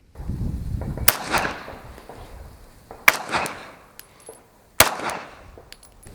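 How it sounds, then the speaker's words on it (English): Three sharp, loud shots fired from a Glock 17 Gen 6 pistol at a body target, spaced about two seconds apart, each cracking out and then trailing off into a short echo. "We're just gonna shoot at the body here."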